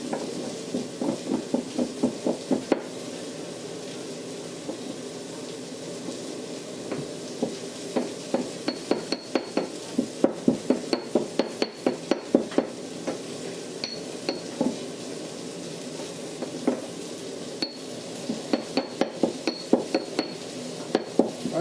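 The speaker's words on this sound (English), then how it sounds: "so now our cumin and garlic is mashed down pretty well" Cumin and garlic being ground for guacamole, likely in a mortar and pestle, with repeated rhythmic grinding and knocking strokes in bursts, close and moderately loud, without talk.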